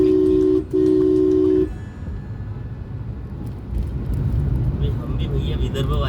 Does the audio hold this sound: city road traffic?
yes